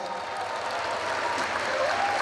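A large crowd at a police anniversary celebration in Arēna Rīga applauds steadily for a short stretch, a broad wash of clapping with faint cheering mixed in.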